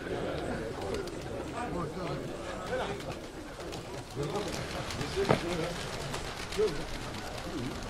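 Pigeons coo at a pigeon club festival, soft repeated coos and a few sharper bird calls mixed under steady crowd chatter and talking voices outdoors.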